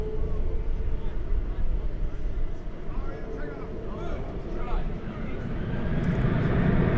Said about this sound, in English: There's the Iberia flight that's going out to Madrid.